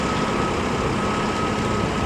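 A truck's reversing alarm sounds a steady high tone over a loud engine rumble at a Los Angeles construction site for a water recycling drain sub-basin facility.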